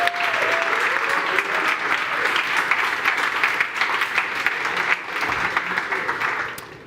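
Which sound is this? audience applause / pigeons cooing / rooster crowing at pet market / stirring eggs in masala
audience applause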